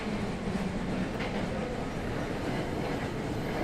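A train braking in a train simulator video game: a continuous, fairly loud rail rumble with faint wheel clatter holding steady throughout, with no voices.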